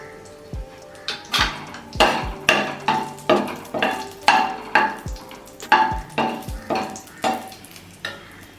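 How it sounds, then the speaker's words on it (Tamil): Whole spices (cinnamon, cloves, cardamom) sizzle in melted butter in a pan for paneer masala, with a steady run of loud spoon scrapes and clinks against the pan as they are stirred. "இப்போ ஸ்பைசஸ் ஒவ்வொன்றா போட்டுடலாம்."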